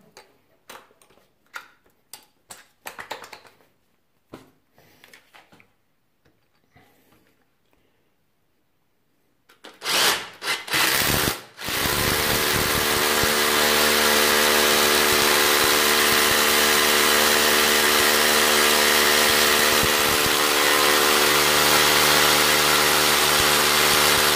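A Huepar 20V brushless cordless SDS-Plus rotary hammer with a 10mm bit drills into hard concrete. A few quiet ticks and taps come first, then a loud, steady grinding hammer roar runs for about thirteen seconds.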